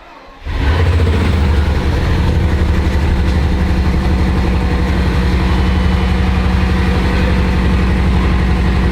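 A 2006 Bugatti Veyron engine starts and idles steadily with a slight misfire, a deep continuous rumble that kicks in abruptly after a brief quiet moment and holds loud and close.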